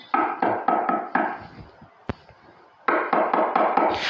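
Several quick knocks rap on a door in two groups of four or five, with a sharp single tap between them and a lingering hollow resonance in the quieter gap.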